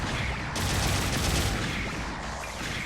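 A machine gun fires continuously while moving in a video game, a dense unbroken roar of rapid shots that stays loud and steady for the full stretch.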